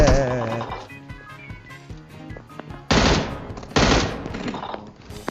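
Gunfire in the PUBG Mobile game, loud bursts of rapid automatic shots and single cracks, with a voice talking in between.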